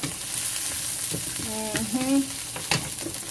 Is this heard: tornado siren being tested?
no